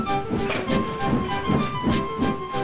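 A small steam tank engine shunts nearby, puffing in a steady rhythm of soft chuffs about three to a second over a constant hiss of steam.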